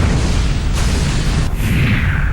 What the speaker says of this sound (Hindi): एक ऐसा धमाका जिसके कहर का सालों तक रहेगा असर।